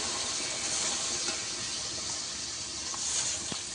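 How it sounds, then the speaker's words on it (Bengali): Water is poured into a pan of spiced fish curry with taro and potato, a steady close hiss and wash of liquid with a faint sizzle, no talking. "এবারে জল দিয়ে দেব।"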